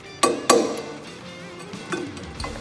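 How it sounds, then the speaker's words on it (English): Sharp hammer blows on a cold chisel peel back the tabs on a prop nut: two crisp close strikes, then softer taps over a low background. "Using a cold chisel and a hammer, you're just going to go ahead and gently peel back these tabs"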